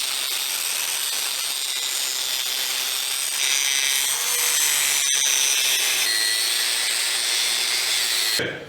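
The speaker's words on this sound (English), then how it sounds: "So I'm just gonna get the grinding wheel," A grinding wheel cutting the end of a threaded rod during a Tahoe/Yukon leveling kit install: a loud, steady, high-pitched abrasive whine that grows slightly harsher midway, then cuts off abruptly at the end.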